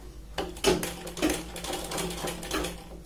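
An electric sewing machine stitches a side seam on a Punjabi dress in several short, rapid bursts separated by brief pauses, close up and with no talking.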